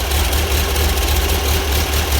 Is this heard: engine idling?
yes